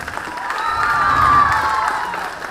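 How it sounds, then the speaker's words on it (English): An audience of girls at a pre-university farewell ceremony breaks into applause and cheering for a prize winner; dense clapping swells to a peak and eases off, with high shouts mixed in. "Please round of applause, girls."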